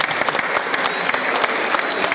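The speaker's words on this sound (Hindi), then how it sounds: "एक बार जोरदार तालियों द्वारा हम आपका अभिनंदन करते हैं।" Loud, dense applause from an audience at a devotional gathering, a Mataji Ki Chowki, with steady, crisp clapping throughout.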